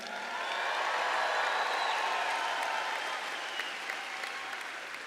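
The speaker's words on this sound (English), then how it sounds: "Give everybody a cheer." A graduation crowd at a Daytona State College commencement ceremony breaks into loud, sustained applause and cheering that swells quickly, holds steady and slowly tapers over several seconds.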